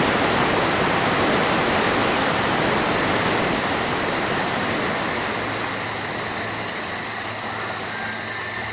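Steady rushing water pours from a dinosaur statue's mouth in a village in the Xbox game Dinotopia: The Sunstone Odyssey, a constant broadband splash that fades slightly toward the end, heard alone.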